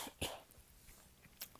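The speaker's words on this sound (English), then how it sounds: "Sorry for all my coughing." Two short, faint coughs from a person, one near the start and another near the end, with quiet room noise between.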